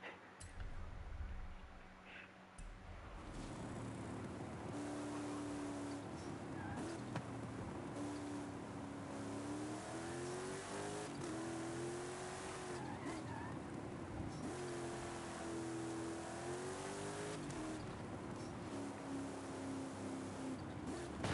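A turbocharged car in Forza Horizon 5 revs through repeated rising and falling engine sweeps, loud and continuous, with tire squeal and skidding mixed in after a quieter opening moment.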